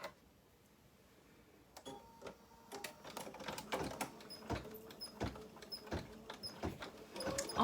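A Bernina embroidery machine stitches out a design, starting after a short quiet moment and settling into a rapid, steady run of mechanical ticks and thumps close by, with no voices.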